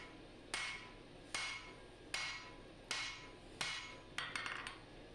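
Steel hammer blows forging the bevels of a Musso Bowie knife blade, five evenly spaced ringing strikes followed by a quick cluster of lighter taps, close and alone.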